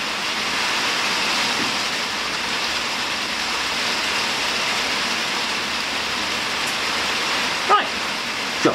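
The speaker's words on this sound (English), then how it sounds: "It is raining hard today." Heavy rain falls steadily during outdoor car restoration work on a Mazda MX-5 Eunos Roadster, a dense continuous hiss with a couple of faint knocks near the end and no talk.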